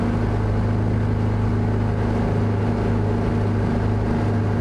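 Steady drone of a light aircraft engine held at cruise power on a flight from Nelson to Penticton, a loud, even hum with a constant low tone and no pauses.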